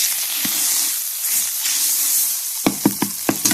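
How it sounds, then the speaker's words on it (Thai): Curry paste frying in oil in a pan, a continuous bright sizzle and hiss, with a few sharp scraping or stirring knocks toward the end. "ผัดพริกแกงกับน้ำมันให้หอม"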